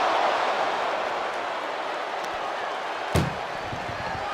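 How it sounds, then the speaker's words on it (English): A WWE SmackDown ambulance match between Jacob Fatu and Bron Breakker: an ambulance door slams shut with a single loud bang near the end, under constant arena crowd noise. "Doing their best just to shut that first door."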